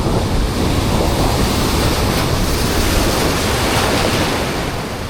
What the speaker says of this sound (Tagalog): Grabe hay ang alon.